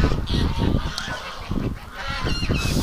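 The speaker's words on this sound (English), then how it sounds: "The Canada geese are here." A flock of Canada geese honks repeatedly outdoors near a flooded swamp, with loud overlapping calls in an uneven rhythm and no talking.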